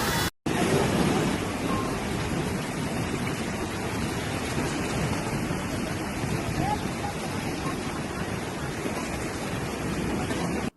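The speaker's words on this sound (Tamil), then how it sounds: "மகாராஷ்டிராவில் தென்மேற்கு பருவமழை தீவிரமடைந்துள்ளது." Heavy southwest monsoon rain pours down in Maharashtra, a dense, loud and continuous roar of rainfall that holds steady from start to finish.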